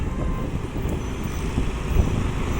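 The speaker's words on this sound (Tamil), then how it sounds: "Traffic guys." Steady city road traffic noise, a continuous low rumble of cars and heavier vehicles passing nearby with no voices.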